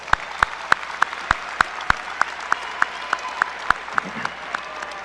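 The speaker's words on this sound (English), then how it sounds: "Give them all a round of applause." A graduation crowd at a high school ceremony claps in steady unison, sharp evenly spaced claps ringing out over a soft background murmur.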